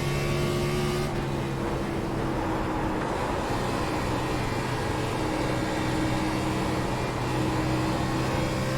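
A race car's engine drones loudly and continuously while being driven on a track, holding a steady, close, even roar without clear revving peaks and with no voices.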